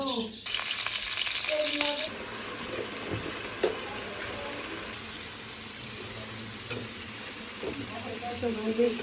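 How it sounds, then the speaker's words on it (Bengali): Cabbage, potato and eggplant are stirred together in a hot pan, a steady sizzle with scraping stirs throughout, close and fairly loud, with faint background voices. "সবজি বাজি করা হচ্ছে বাঁধাকপি আলু তারপর বেগুন একসাথে মিক্স করা"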